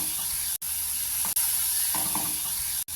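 Prawns sautéing in hot oil with onion, tomato and ginger-garlic paste for a masala, a steady close sizzle and hiss with a few brief dropouts, no talking.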